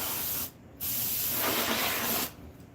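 An aerosol can sprays onto a frosted computer fan in two bursts, a loud close hiss, a short pause, then a longer sustained spray that cuts off near the end.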